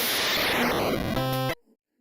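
A chiptune noise channel slides in pitch in FamiStudio, a harsh hissing burst that sweeps downward into a buzzy tone before cutting off abruptly.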